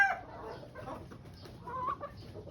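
Chickens and pullets of a fighting-cock breed cluck softly close by in a couple of short, quiet bursts, with low background noise and no talk.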